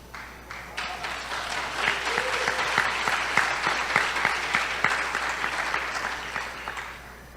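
Audience applause fills a hall during a gospel sermon, a steady dense clapping that swells and holds for several seconds before tapering off, with no speech over it.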